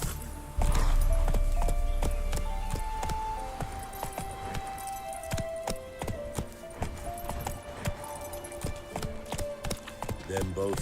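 Roach, a horse in the Witcher 3 video game, trots with rhythmic clip-clop hooves under a voice and a swelling music score, the hoofbeats steady and mid-distance throughout.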